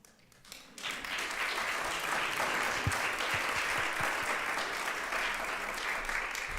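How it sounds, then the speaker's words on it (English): An audience at a church confirmation Lent project presentation bursts into steady applause after a brief quiet start, sustained many-handed clapping filling the room at close range. "let's give one more big round of applause for Jalen and Scott."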